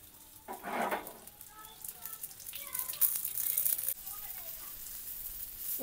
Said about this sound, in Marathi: आणि आता आईने हे परत फ्राय करायला टाकलेलं आहेत.